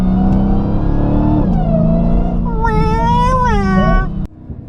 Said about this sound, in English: Just a combination of supercharger whine and then also just pure V8 rumble.